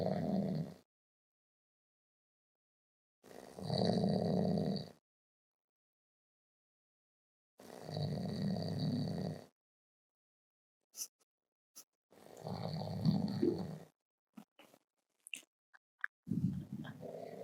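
A man snores while asleep indoors, with three or four slow, rasping, throaty breaths separated by long silent pauses, close and moderately loud, plus a few faint clicks near the end.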